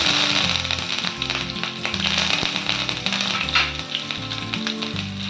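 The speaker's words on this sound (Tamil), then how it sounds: "எண்ணெய் காந்துடுச்சு தாளிப்புக்கு பட்டை கிராமம் லவங்கம் ஏலக்காய் ஆட் பண்ணிக்கலாம்" Cinnamon, cloves, cardamom, green chillies and curry leaves crackling in hot oil for tempering, a loud continuous sizzle with sharp pops and spatters, close up, over a low background hum.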